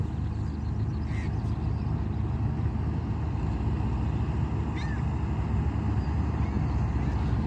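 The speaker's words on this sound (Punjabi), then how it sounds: "ਇੱਥੋਂ ਗਈ ਆ ਜੀ ਕੰਬਾਈਨ ਇਹ ਤਾਂ ਪਾਣੀ ਦੇ ਵਿੱਚ ਦੀ ਆ ਰਹੀ" A combine harvester's heavy engine drones loudly and continuously at close range while crossing a river, low and steady, with faint splashing and occasional high squeaks above it.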